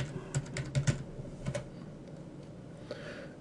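Keyboard typing at a computer while entering a command in 3D modeling software, a quick burst of close clicks for about a second, then a brief pair of keystrokes, fading to quiet room tone.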